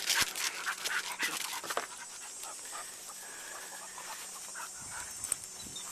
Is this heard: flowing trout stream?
no